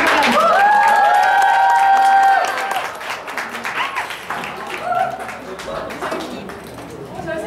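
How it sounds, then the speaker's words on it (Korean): A crowd at a live music performance claps and cheers, with a bright whistle-like tone gliding over the opening seconds before the applause settles into steady, lighter clapping. "되게 떨려하니까 박수 많이 쳐주시고 용기를 많이 불어주세요"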